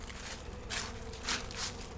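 Honeybees on hive frames full of nectar during a fall colony combine, a soft low hum with a few closer buzzing swells passing by, quiet and close with some handling rustle.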